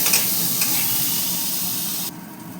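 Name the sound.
potatoes frying in a wok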